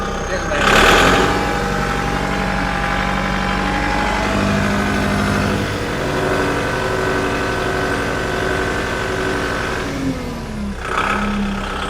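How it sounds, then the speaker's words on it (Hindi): A Kubota MU 5501 55-horsepower tractor engine cranks over with a brief loud burst, then settles into a steady, close diesel idle that rumbles on throughout, with a second small surge near the end and someone speaking over it. "ये इस ट्रैक्टर की स्टार्टिंग है जी।"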